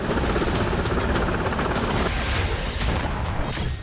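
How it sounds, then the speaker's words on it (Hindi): Iranian military helicopters flying during a naval drill, a loud, steady rotor roar with broadband noise and faint thudding, continuous throughout with no talk. "युद्धाभ्यास में ईरान के हेलीकॉप्टर भी शामिल हैं।"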